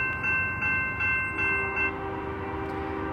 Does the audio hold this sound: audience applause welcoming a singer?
no